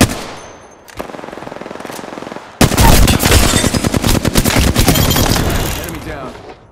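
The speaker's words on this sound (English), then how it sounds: "Taking fire, brothers." Video game gunfire: a lighter, evenly paced string of shots first, then a loud, sustained automatic barrage of rapid close-range bursts that gradually fades, with brief voices mixed in.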